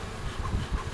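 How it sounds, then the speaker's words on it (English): Honey bees hum steadily at an open hive while frames are handled, a close, continuous low drone with slight swells in loudness and no voices over it. "Go down inside, little bees."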